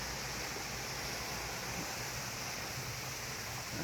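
Water pouring steadily from a waterfall at a village water-storage weir, a dense continuous rushing roar with no pauses and no voices.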